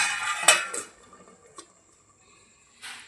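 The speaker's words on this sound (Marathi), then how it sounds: "आता आपण आपल्या गॅसची फ्लेम लो करून यावर झाकण ठेवून देऊया" A lid set on a pot of simmering thecha chicken over a low gas flame gives a sharp metallic clank, followed by a softer clink and a faint scrape, with quiet simmering in between.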